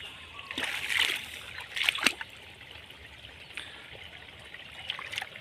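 Water splashes and trickles while shallot plants in a field are watered, coming as uneven bursts of spray and splatter at moderate loudness, some stronger gushes early on, then quieter dribbling, with no talk over it.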